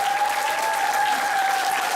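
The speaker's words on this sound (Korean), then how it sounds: "큰 박수와 함께 배우분들 모셔보겠습니다" Steady, dense applause from an audience welcoming actors at a school musical performance, continuous and even throughout with a sustained tone running beneath.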